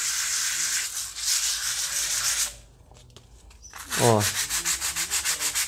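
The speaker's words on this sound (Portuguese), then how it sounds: "é só você correr uma lixinha por cima" Sandpaper rubs over ready-mixed filler patched into holes in a wall, a steady close scratchy rasp for a few seconds, then a pause and a quick run of rhythmic short strokes. A brief word is spoken.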